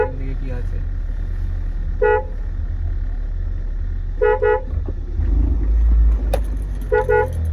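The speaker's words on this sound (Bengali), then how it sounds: "হর্ন মারি" A car horn toots in short bursts, several times, over a low idling engine rumble near a garage where puppies play outside.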